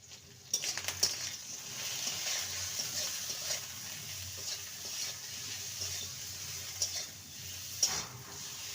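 Spinach fry cooking in a pan with turmeric powder, a soft continuous sizzle broken by occasional light scraping stirs, quiet and close with no talking.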